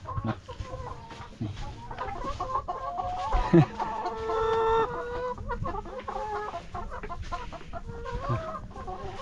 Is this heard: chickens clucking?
yes